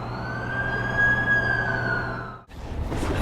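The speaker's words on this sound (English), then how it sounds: "That's the ambulance I called." A wailing ambulance siren in the video game The Amazing Spider-Man 2 sweeps steadily close by over an engine drone, then cuts off abruptly near the end.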